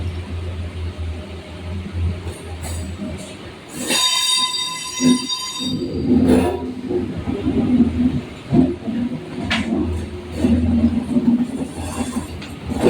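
A Howrah to Belur Math local train rolls along with a loud, steady rumble and rhythmic wheel clatter, a sharp screech or horn around the middle rising above the continuous rail noise.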